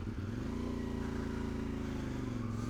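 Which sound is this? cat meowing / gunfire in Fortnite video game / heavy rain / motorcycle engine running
motorcycle engine running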